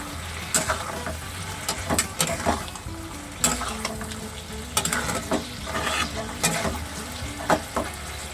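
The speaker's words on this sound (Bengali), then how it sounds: "তো চলো এবার এটা আস্তে আস্তে ফুটুক।" Chili chicken gravy bubbling and simmering in a pan, with a steady sizzling bed broken by frequent scraping stirs and light utensil knocks, close and moderately loud, no voices.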